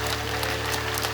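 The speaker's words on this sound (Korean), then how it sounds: "하나님께 영광의 박수 올려드리겠습니다" A church congregation at a prayer meeting applauds briefly in a continuous wash of clapping, heard over a steady low electrical hum.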